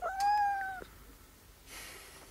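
A cat meows once, clear and close, a short rising-falling cry followed by a faint soft rustle, with no speech.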